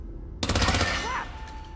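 A gun fires in Hitman 2 at Santa Fortuna, a sudden rapid burst of several loud close shots that ends abruptly, followed by a brief fading ring and ambient game sound.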